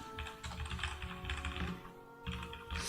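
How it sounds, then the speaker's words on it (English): Rapid typing on a computer keyboard, close and continuous, with dense key clatter that pauses briefly before resuming. "I don't know why I'm typing stuff that I already typed a million times."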